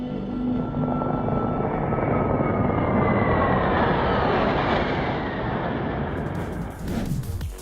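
A fighter jet roars past at an air show, its loud broadband engine noise holding steady and then shifting sharply as it passes, with no voices.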